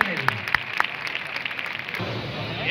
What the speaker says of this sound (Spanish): Y ese fue el aplauso.